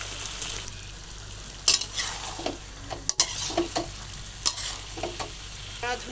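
Meat hits a hot pan with ginger and garlic for biryani, crackling in a steady close sizzle while a spoon scrapes and stirs in several sharp strokes, with no talking.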